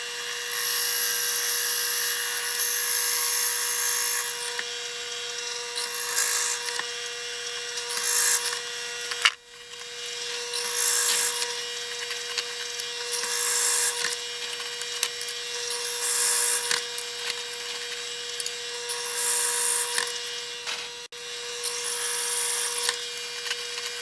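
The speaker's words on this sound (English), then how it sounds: "I've got it set up in my lathe to drill, and this is how we'll drill out" A motor-driven drill on a metal lathe whines steadily while a 10mm bit grinds through material, the pitch rising and falling in bursts, with a brief pause partway through.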